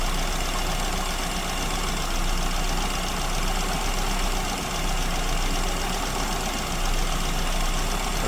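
A car engine with an SU carburetor idles steadily at around 900 RPM while the idle mixture is being adjusted, a continuous even drone with a faint uneven knock, close by and with no talking.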